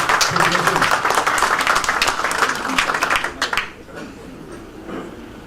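A crowd applauds loudly and steadily for a few seconds at a panel discussion, then the clapping fades out, leaving quiet room tone.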